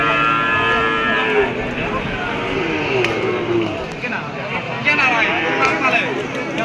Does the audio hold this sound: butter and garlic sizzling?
no